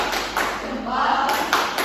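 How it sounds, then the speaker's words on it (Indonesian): Fourth-grade children in an Indonesian classroom beat out a short patterned cheer clap, a few quick rhythmic bursts of hand claps and taps mixed with young voices over about two seconds. "Mari kita beri tepuk salut yuk untuk kelompok 2."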